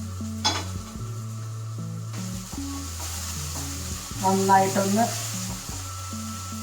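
Ginger and green chillies sizzle steadily as they sauté in a hot pan, with a spatula scraping and stirring, while someone talks over the cooking.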